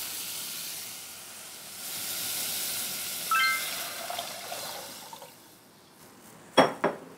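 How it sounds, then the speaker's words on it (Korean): Water poured into a pot while cooking Korean beef seaweed soup, a steady soft hissing rush that fades, followed near the end by a sharp clink of a utensil or vessel. "물을 부어주세요."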